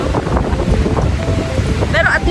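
Strong wind buffets the microphone on a beach in La Union, a loud, steady roar throughout with the low rumble of surf beneath and a brief high whistle near the end.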